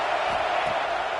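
A dense, steady roar from a packed stadium crowd at an LSU vs Clemson football game rallying behind the defense before a big third down, loud and continuous throughout with no single voice standing out.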